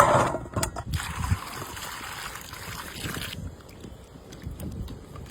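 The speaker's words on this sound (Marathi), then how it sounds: "आपण आता आवळा स्वच्छ पाण्याने धुवून" Amla, Indian gooseberries, are washed in clean water, with close splashing and trickling as the fruit is swished about, fairly loud at first and then settling into a softer steady wash.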